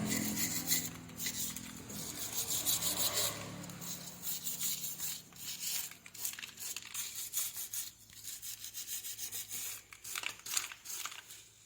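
Soil is scraped off the rotary plate of a Bheem power tiller, making a steady, close rasping and rubbing that continues throughout without speech.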